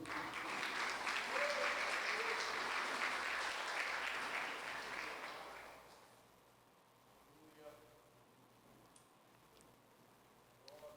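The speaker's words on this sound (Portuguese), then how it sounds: "Você pode aplaudir Ele?" A church congregation applauds loudly for about five seconds, the clapping then fading to a quiet room with faint scattered sounds and murmured speech.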